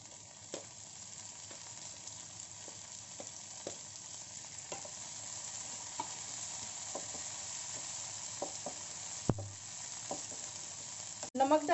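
Vegetables fry and sizzle steadily in a pan as tomatoes go in, with soft scraping stirs and a few sharper clatters near the end, no talk.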